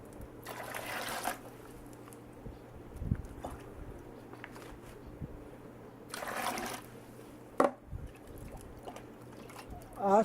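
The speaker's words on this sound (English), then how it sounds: "I'm going to pour some water into this bucket" Water poured into a metal bucket hanging from a bent spring-steel cantilever, heard as a few short splashing pours and trickles in quiet room noise between stretches of talk.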